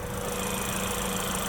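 GMC Terrain AT4 with a 1.5-liter turbocharged four-cylinder Ecotec and 8-speed automatic, a steady droning engine note at higher revs, constant and fairly loud with no talk.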